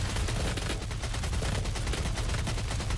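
Rapid, continuous gunfire in a shooter video game, loud dense bursts of automatic shots filling the whole moment with no talking.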